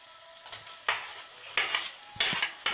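Mashed eggplant is stirred into masala in a kadhai for bharta, a spoon scraping and mixing in several distinct bursts with a faint sizzle between strokes.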